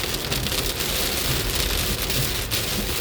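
Steady heavy rain drums on a car while it drives, a dense close patter on the roof and glass, with no voices.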